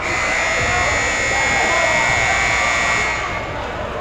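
A loud, sustained basketball game clock buzzer blares for about three seconds over crowd and arena noise at a high school game, then cuts off.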